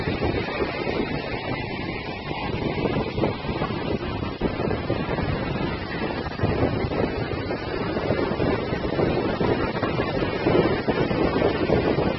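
Ocean surf rumbles continuously at Imperial Beach under heavy wind buffeting the microphone, a loud, steady roar with no voices.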